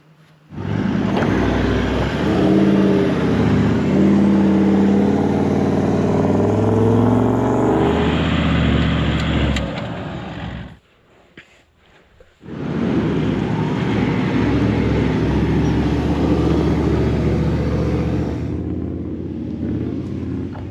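Toyota LandCruiser 78 Series stuck in mud, its engine roaring loud and close in two sustained revving bursts separated by a brief near-silent pause, strained and droning.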